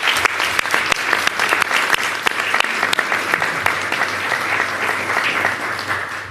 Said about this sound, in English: So let's give a round of applause to the parents as well.